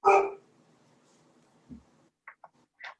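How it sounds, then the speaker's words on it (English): A single dog bark rings out clearly at the start, followed by quiet scattered small sounds and faint clicks in an otherwise hushed indoor room. "I heard your dog."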